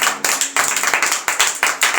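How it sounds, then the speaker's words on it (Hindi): Energetic clapping from a congregation at a church sermon, with steady rapid hand claps coming in quick bursts and no talk over them. "जोरदार तालियां बजा"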